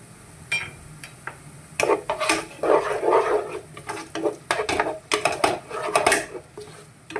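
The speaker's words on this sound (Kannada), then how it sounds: "ಚೆನ್ನಾಗಿ ಫ್ರೈ ಮಾಡೋಣ, ಸ್ವಲ್ಪ ಮೀಡಿಯಮ್ ಬ್ರೌನ್ ಆಗೋ ತನಕ." Ginger garlic paste frying in a pan while being stirred, with rhythmic metallic scraping and clinks of a spatula against the pan, close and fairly loud, no talk.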